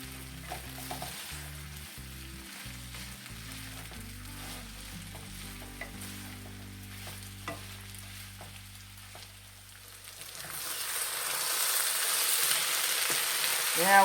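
Squash, okra, potatoes and onions stir-fry in a pan with a soft, steady sizzle. Occasional stirring clatters and scrapes, and the frying grows louder and hissier toward the end.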